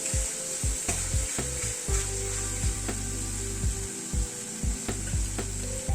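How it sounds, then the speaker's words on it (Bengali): Spice masala with turmeric sautéing in a pan on a medium gas flame, a steady sizzle with repeated scraping stirs of a spoon against the pan, close and alone. "গ্যাসের ফ্লেমটাকে মিডিয়ামে রেখে মশলাটাকে ধীরে ধীরে কষাচ্ছি।"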